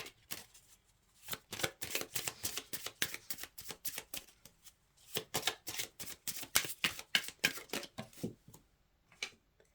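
Oracle cards being shuffled by hand in close, rapid bursts of crisp riffling slaps, pausing briefly and resuming in a steady, papery rhythm with no talking.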